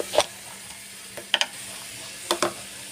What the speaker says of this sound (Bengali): এই মিশ্রণটাকে আমি ভালো করে বন্ধুরা এখানে ফুটিয়ে নেবো